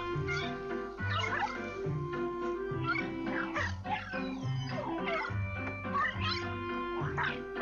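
A small dog barks and yips in Luigi's Mansion 2, a video game, in steady repeated bursts over continuous game music.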